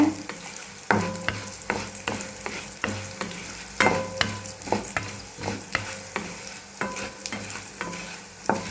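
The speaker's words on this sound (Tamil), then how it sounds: "ஃபஸ்ட்டு வந்து இந்த தனியா இல்லைன்னா கொத்தமல்லி மல்லி விதை அதை வந்து வறுத்துக்கலாம்" Coriander seeds roast in hot oil in a pan over low heat, a soft sizzle under repeated scraping stirs that clack at a quick, steady rhythm, close by.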